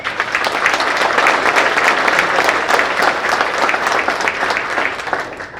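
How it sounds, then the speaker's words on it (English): An audience at a State of the City address applauds the police chief and fire chief with sustained, even clapping that fills the room at a steady level. "Let's please recognize them with a round of applause."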